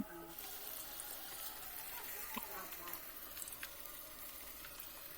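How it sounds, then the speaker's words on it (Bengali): Palm malpua batter frying in hot oil in a pan, a steady soft sizzle with faint crackles and pops throughout, quiet and without talk. "এরপরে ওই একই তেলে আমি যে ব্যাটারটা বানিয়েছিলাম সেই ব্যাটারটা থেকেই আমি অল্প করে এক হাতটা করে ব্যাটার দিয়ে দেখুন আমি তালের মালপোয়া বানিয়ে নিচ্ছি"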